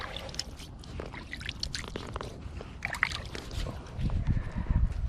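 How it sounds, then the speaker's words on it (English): Hands swish and splash in lake water beside a fishing spot, with soft sloshing and trickling close by that grows heavier toward the end. "try to wash our hands best we can in the lake water."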